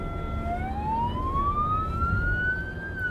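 A Belgian police car siren sounds during a chase, a single long rising wail that climbs gradually and holds, loud and close over road and engine noise.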